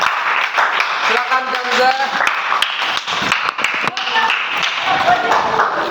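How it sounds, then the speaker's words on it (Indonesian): Scattered classroom clapping mixed with taps, uneven and close, while a teacher talks over it. "tepuk tangan"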